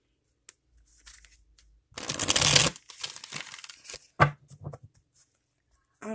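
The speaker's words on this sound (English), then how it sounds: "Okay, so one more shuffle." Tarot cards being shuffled close up in a few quick bursts of riffling and crinkly rustling, separated by quiet pauses.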